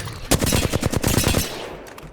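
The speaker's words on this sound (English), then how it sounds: "Flatline's definitely one of my go-to weapons, because pretty automatic with the flatline." Flatline automatic rifle in Apex Legends firing one rapid, loud, close burst of about a dozen evenly spaced shots, ending with a short echoing tail.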